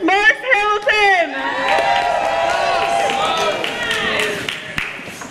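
A rally crowd in Hartford claps and cheers, with whoops and raised voices layered over steady applause, loud and near, fading slightly toward the end.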